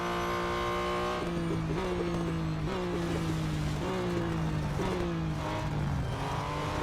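A BMW M Hybrid V8 race car in a racing video game roars loudly and continuously, its engine pitch dropping in repeated downshift steps as it brakes hard into a corner, with faint tire noise underneath.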